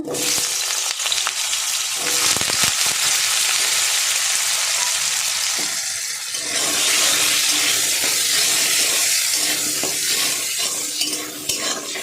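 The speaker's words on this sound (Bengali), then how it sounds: "তেল গরম হয়ে গেছে, আমি একটু লবণ দিলাম তেলে, দিয়ে আমি আলুটা ভেজে নেব।" Potatoes frying in hot salted oil, a loud, dense crackling sizzle that runs throughout, with scattered clatters from stirring and handling and no speech.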